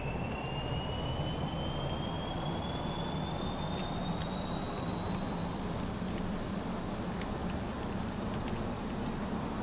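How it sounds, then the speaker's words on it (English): Rocket engine in the video game Kerbal Space Program, a continuous loud roar with a high whine rising slowly in pitch, steady throughout with faint clicks on top and no voices. "Alright, so prep, let's charge up the engine"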